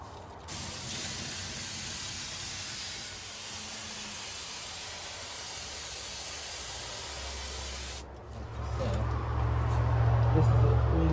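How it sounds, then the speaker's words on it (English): Spray adhesive hisses in one long, steady burst while upholstery is glued in an 80s red Chevy truck, then cuts off near the end as a low rumble and voices take over. "I'm gonna start gluing."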